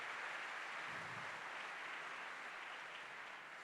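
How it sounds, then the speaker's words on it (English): Steady applause from an audience at a DiEM25 political event in Brussels, a dense wash of clapping that holds evenly for several seconds with no talking. "Can we please give them a big applause?"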